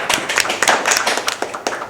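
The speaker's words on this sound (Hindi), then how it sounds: "अब मैं चाहता हूँ इसके लिए ताली आप बजाएं प्लीज़।" Audience members clap at a Hindi film press conference, loud, close, fairly quick hand claps sounding continuously for a couple of seconds.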